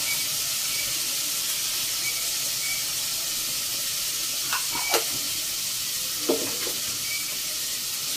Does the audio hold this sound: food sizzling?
yes